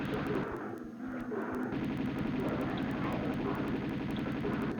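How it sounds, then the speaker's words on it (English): Rapid gunfire at leopards in Tomb Raider II on PS1, a steady string of evenly spaced shots over game background sound, loud and continuous after a brief opening lull. "you stop shooting at the dead one, please, Lara"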